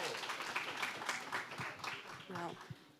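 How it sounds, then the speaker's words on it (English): A community meeting audience gives a brief round of applause, a soft, fairly distant patter of clapping with a voice speaking over it toward the end. "Give her some applause."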